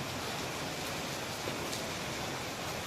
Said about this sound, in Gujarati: પણ હવે આમાં વરસાદ ચાલુ થયો